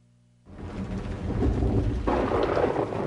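Heavy rain and rumbling thunder, used as a sound effect in a LiftMaster garage door opener commercial, swell in loud and steady after a quiet start, with a surge of rain intensity about two seconds in.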